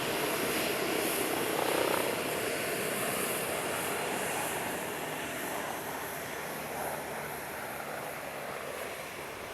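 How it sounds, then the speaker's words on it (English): Bölkow Bo 105 helicopter flying at an airshow, a broad steady rotor and engine roar at moderate distance that fades slightly as it passes, with no voices. "the Bol 105 is widely regarded as the world's first aerobatic helicopter"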